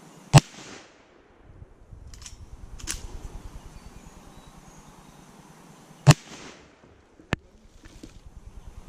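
Lever-action rifle shots fired outdoors at a shooting session: several sharp, loud cracks spaced irregularly over several seconds, each with a brief echoing tail, with faint low rumble and handling noise between them.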